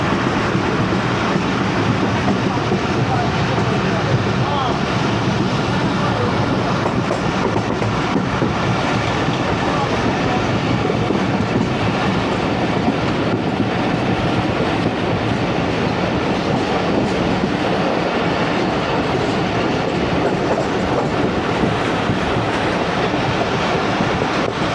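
The 13UP Awam Express rolls along steadily as it slows before Dhonkal station, a loud, continuous rumble of wheels and carriages with rhythmic clacking throughout and no voices.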